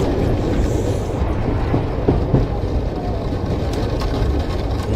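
A train runs at speed with a loud, continuous rumble and a few faint clicks from the rails, used as a sound effect for a spooky ghost train.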